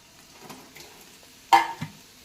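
Vangi bath masala fries in a pan under a low sizzle, with soft stirring scrapes and a sharp metallic clink of a spoon against the pan near the end.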